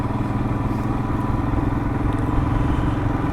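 A Royal Enfield Himalayan motorcycle chugging steadily along a rocky back road, its low engine thrum continuous and close, with faint clatter and rumble from the rough surface and wind noise throughout.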